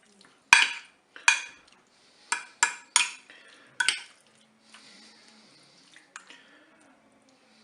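Eggs and crème fraîche being mixed over cauliflower in a dish give a series of sharp utensil clinks and scrapes against the dish, close and irregular, then softer wet stirring trailing off.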